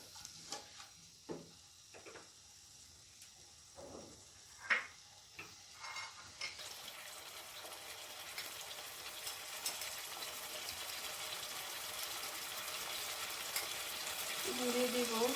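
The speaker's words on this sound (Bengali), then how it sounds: "দিয়ে এটাকে ভালো করে মিক্স করে নিব।" Rajma prawn curry is stirred in a pan, with scattered clinks and scrapes of a spoon at first, then a steady soft sizzle of frying that builds gently toward the end.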